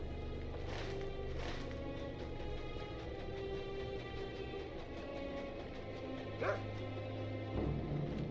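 A dog in the video game Lord of the Rings Online gives several yips and whimpering barks, moderately close and spread across a steady ambient hum, with a few louder bursts toward the end.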